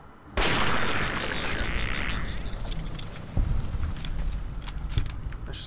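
A player's weapon firing in Fallout New Vegas: one sudden loud blast with a long rumbling tail, followed by two weaker thuds later, and no talk.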